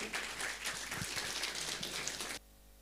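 A congregation at a Sunday church service gives loud applause to welcome a music group, with dense, even clapping that cuts off abruptly into quiet room tone.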